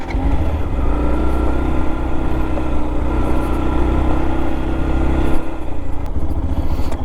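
A Yamaha FZ X motorcycle with dual-purpose tires rides off, its engine note held steady and close throughout, with a brief rise in revs near the end.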